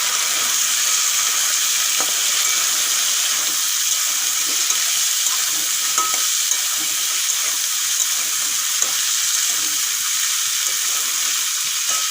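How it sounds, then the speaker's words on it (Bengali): Soaked, uncooked kabuli chana (chickpeas) and carrots frying in a pan, a steady close hiss of sizzling oil with faint occasional stirring clicks running throughout. "এইভাবে চার মিনিটের মতো আমি ভেজে নেব"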